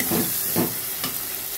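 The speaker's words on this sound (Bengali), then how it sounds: "এবার সুন্দর করে নেড়ে নেব।" Spices stirred and frying in oil in a pan for Bengali mutton curry, a steady close sizzle with three soft scraping strokes of the spoon near the start.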